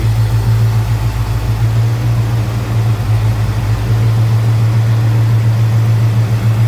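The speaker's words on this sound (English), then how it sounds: "Good sounding engine." A 1966 Pontiac GTO convertible's engine idles loud and close, a steady low rumble with an even throb that holds throughout.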